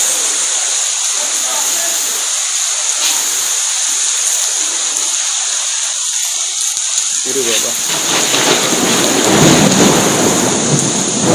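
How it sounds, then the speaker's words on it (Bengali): A thunderstorm with loud, rolling thunder and heavy rain pouring steadily, the downpour swelling louder in the second half, with a person talking faintly at times beneath the storm. "প্রচণ্ড প্রচণ্ড জোরে বজ্রপাত হচ্ছে"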